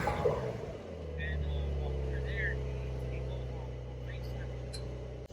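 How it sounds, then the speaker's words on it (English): A 2020 Porsche 911 Carrera 4S with its exhaust opened in sport mode settles into a deep, steady, close rumble after a brief burst, with faint voices in the background. "So put it in sport mode, open up that exhaust, and put the chassis in sport mode."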